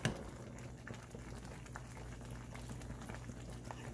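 Rice and beans simmer gently in a pot on low heat with very little liquid left, making a soft, continuous bubbling patter, close and quiet, with no talking.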